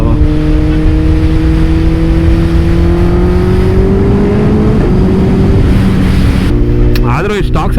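The inline-four engine of a Suzuki Hayabusa motorcycle with its stock silencer drones steadily and loudly at high speed, its pitch rising slowly under heavy wind rush, then shifting near the end.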